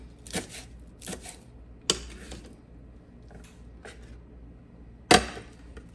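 A knife cuts through rolled-up Swiss chard leaves on a board, giving a few crisp, irregular chops, with one sharp cut near the start and another near the end and soft rustling between them.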